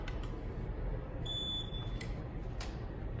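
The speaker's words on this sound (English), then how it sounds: "we're going to listen for that timer beep" A heat sealer's timer gives a short, thin electronic beep, faint and high, at the end of a seal on plastic material, heard over a steady low hum with no talking.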